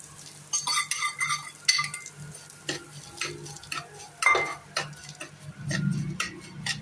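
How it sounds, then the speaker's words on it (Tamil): Semolina (rava) being stirred and roasted in ghee in a pan, a spoon scraping and clinking against the metal in irregular strokes with soft sizzling underneath, close and moderately loud with no talking. "ஒரு நிமிஷம் இப்படி நல்லா வதக்கிக்கலாம்."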